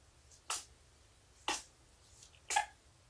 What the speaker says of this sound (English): Sneezes are fine.